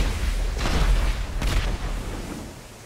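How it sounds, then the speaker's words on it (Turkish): A bomb explosion in GTA 5 booms in a couple of deep, rumbling blasts that roll over steady game noise and then fade. "Abi bu şimdi bomba atacak."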